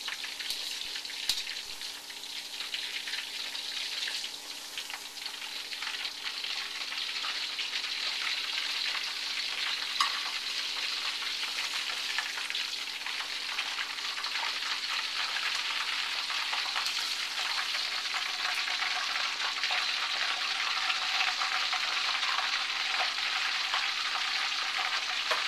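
Battered shrimp deep-frying in hot oil, a steady dense crackling sizzle that holds evenly for the whole stretch, close and continuous with no talk.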